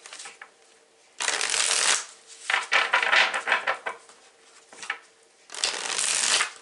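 Tarot cards shuffled up close in three loud, rapid riffling bursts, with quieter soft handling of the deck in between and no speech.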